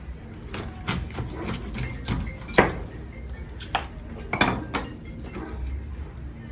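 A large gurnard fish is cut through the cartilage behind its hard head with a knife, giving sharp scattered clicks and knocks of blade and metal on a board at close range, with no talk.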